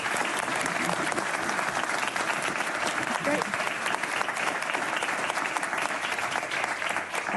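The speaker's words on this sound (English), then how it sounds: "Like I said, we love the applause." Steady applause fills a press conference room on Arctic security with the Danish and Greenland prime ministers, dense clapping held at an even level throughout, with a brief spoken word over it.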